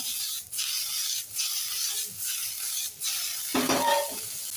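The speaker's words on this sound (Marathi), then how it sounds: "आणि कोबी छान टॉस करून घेऊया" Chopped cabbage, capsicum and carrot are tossed and stir-fried for dry veg manchurian. Close, rhythmic stirring scrapes repeat about once a second over a steady sizzle, and a louder metallic clatter comes near the end.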